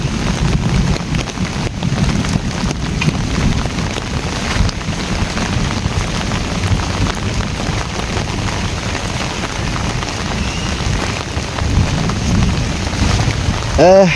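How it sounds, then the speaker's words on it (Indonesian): Steady rain pours over Kampung Cariu village on a misty afternoon, a loud, constant hiss of drops on surfaces near and all around, with no talking. "Seperti apa di suasana Kampung Cariu saat turun hujan teman-teman"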